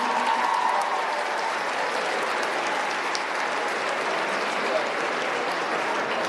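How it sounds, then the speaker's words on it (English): Sustained applause from a large crowd in a gym after a girls' basketball game, a loud even roar of clapping with a faint murmur of voices beneath. "How about a great round of applause for the girls' game?"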